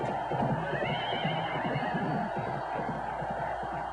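Horses of a racing chariot team neigh at an ancient Roman circus track, a loud whinny rising and trailing off over a rough, echoing background din.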